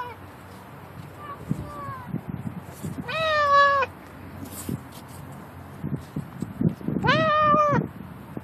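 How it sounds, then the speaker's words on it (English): Cat meowing outdoors, two drawn-out, clear meows several seconds apart, fairly near, with faint background noise and soft rustling between calls. "You can keep meowing."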